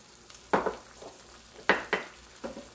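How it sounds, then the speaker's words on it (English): Chopped steak gravy simmers in a pan while being stirred, a soft bubbling sizzle broken by several scraping clinks of a utensil against the pan. "Now I'm just going to let that cook until it gets a little bit thick"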